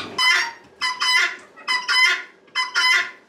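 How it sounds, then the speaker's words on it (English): Guinea fowl give loud, harsh, rhythmic calls, four bursts of rapid cackling chatter repeating in a steady pattern close by. "Guinea fowl are very loud."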